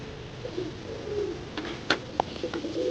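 Soft, low cooing of pet pigeons repeating over a faint background hum, with a few brief fluttering or scuffling sounds mixed in.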